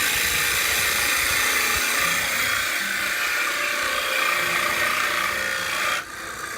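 Bowl gouge cutting a wooden bowl on a wood lathe, a steady loud rasping, hissing shear of the tool against spinning wood that continues for about six seconds and then cuts out abruptly.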